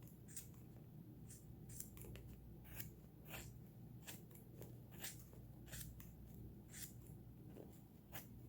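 Dull scissors snip through yarn wound on a 3D-printed pom pom maker, a steady run of short crisp cuts repeating close by over a constant background hum.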